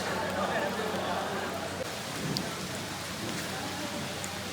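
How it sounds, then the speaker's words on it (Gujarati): Rain falling at Matheran hill station, a steady soft patter on surfaces that continues throughout, with a faint rumble at the low end and no talking. "વરસાદ ચાલુ થઈ ગયો છે"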